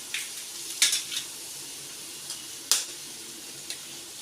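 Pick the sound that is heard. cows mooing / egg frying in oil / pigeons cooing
egg frying in oil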